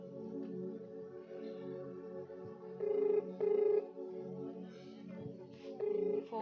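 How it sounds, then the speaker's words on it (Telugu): A telephone rings in three short, steady tonal bursts, the first two close together and the third after a pause, heard indoors over a quiet background. "ఫోన్ చేస్తున్నారు"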